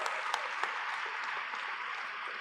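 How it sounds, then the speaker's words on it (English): Conference audience applauding session coordinators, a dense, steady patter of many hands clapping throughout, heard from within the hall. "could we have a huge round of applause for all the 7 session coordinators?"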